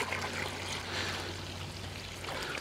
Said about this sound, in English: So then you just tip the water.